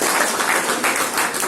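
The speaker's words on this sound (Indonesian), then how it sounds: "Jadi alih-alih situ kasih aplaus dulu." Audience applause at an Indonesian national-values outreach session, a dense, steady wash of clapping from many hands held close for a short burst with no voices over it.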